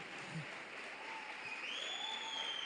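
Audience applause at a church sermon, a soft, even wash of distant clapping under a faint tonal hum.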